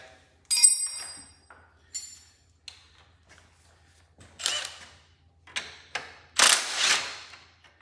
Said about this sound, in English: Now I'm going to loosen up that bolt